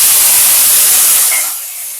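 Diced potatoes dropped into hot oil with fried spices for sabudana pulao give a loud, bright sizzle that is strongest at first and then eases off within about two seconds.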